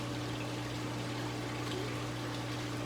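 Water running steadily into a container as it is filled from a stingray pond, a constant low, even gush with a faint pump-like hum underneath, uninterrupted and close.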